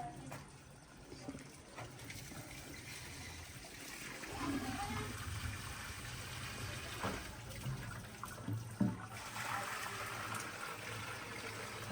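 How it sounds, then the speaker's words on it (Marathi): Water trickles and splashes steadily into a manure pit on a cattle farm, a continuous moderate flow with occasional louder splashes. "पाणी सगळं असं शेणकीत येतो"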